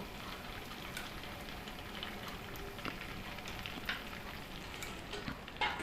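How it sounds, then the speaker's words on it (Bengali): Fried cabbage pieces are dropped one by one into a simmering vegetarian cabbage curry with softened potatoes, giving a faint, steady bubbling sizzle with occasional soft ticks and splashes. "এখন আমি ভেজে রাখা বাঁধাকপির টুকরোগুলোকে ঝোলের মধ্যে একে একে ছেড়ে দেব।"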